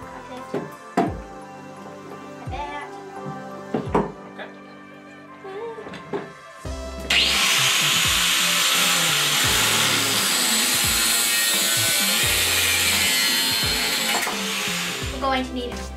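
A hand saw cuts through wood while building a backyard zipline, with scattered knocks and handling sounds before a steady, loud stretch of continuous rasping sawing close to the microphone.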